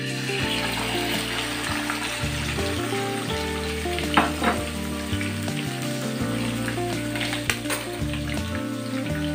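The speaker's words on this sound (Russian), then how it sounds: "Масло разогрелось, и я выкладываю сюда мою печень." Steady loud sizzling of pork liver frying in hot oil, with crackling pops and a faint background hum and occasional clinks.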